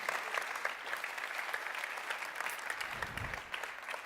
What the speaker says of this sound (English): So a bit of a round of applause, please, for Army